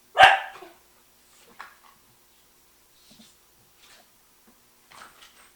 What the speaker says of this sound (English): Little dog down there.